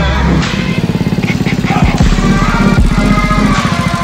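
A motorcycle engine left running at close range, a loud, steady pulsing idle with rhythmic thumping beats throughout and no talk over it.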